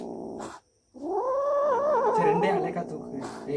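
Cats yowling and caterwauling after catching a rat, a long wavering eerie wail rising and falling close by, broken by a brief gap, with people talking faintly in the background.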